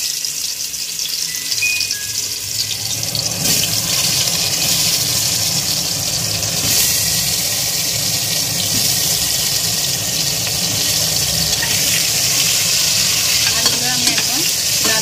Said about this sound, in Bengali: এবার একটা একটা করে আলু আমি এতে ছেড়ে দেব। প্রথমে আলুটাকে আমি লাল লাল করে ভেজে নেব।